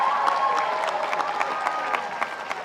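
A large crowd at a senior high school graduation ceremony bursts into applause and cheering, dense continuous clapping mixed with scattered whoops, loud and filling the space.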